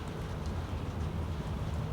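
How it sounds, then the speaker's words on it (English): Light rain falls on a rainy day in Tucson, a soft, even hiss of drizzle with low rumbling background, steady and fairly quiet throughout. "It's a nice rainy day here in Tucson."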